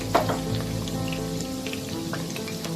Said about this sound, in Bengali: আলুটা ভাজা হয়ে গেছে, এবার আমি আলুগুলোকে একটা সাইড করে নেব।